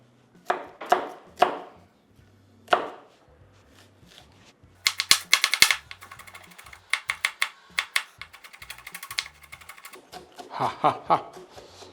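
Knife chopping onions on a board for a macaroni dish, first a few separate cuts, then quick rhythmic runs of close, crisp chops with short pauses between them.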